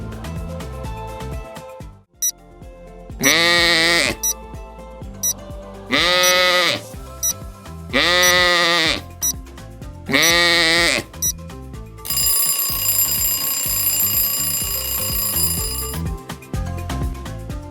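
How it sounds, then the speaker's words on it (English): Four loud sheep bleats come in a row, evenly spaced, followed by a sustained bright ringing like an alarm bell. "It's a sheep."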